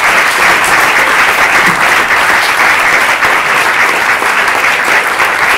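Loud, dense applause from an audience at a Brexit panel discussion, a steady wash of clapping hands that holds evenly throughout without letting up.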